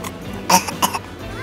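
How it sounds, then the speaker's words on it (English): A child gives two short, sharp coughs close by, with quiet background in between. "Oh, you're coughing."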